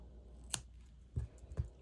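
Scissors snipping crochet yarn, a few quiet close clicks: one sharp snip followed by two softer cuts in quick succession.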